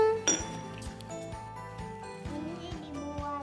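A glass object clinks sharply as it is handled, one bright strike followed by softer taps and knocks against other items, close and fairly quiet.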